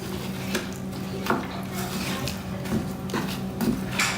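A spoon stirs food simmering in wine inside a pot, giving soft scraping and clinking strokes against the pan at a steady, moderate level with a faint bubbling background.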